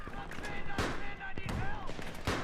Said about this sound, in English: Look at that cocksucker with that machine gun!